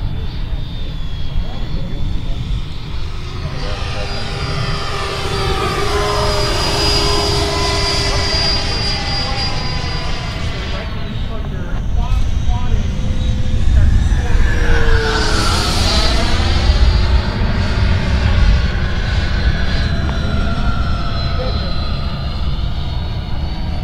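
Two Stinger 90 jet aircraft flying in loose formation pass with a loud continuous jet roar, rising as they come close overhead and sweeping in pitch as they go by, with voices talking over it.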